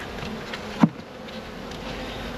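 Honey bees hum at a hive, a soft continuous buzz with one louder bee passing close by, no talking.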